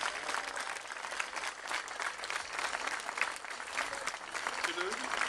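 A crowd at an outdoor celebration on Kgs. Nytorv gives bus driver Linda Thomsen a sustained, dense round of clapping and cheering that holds steady throughout.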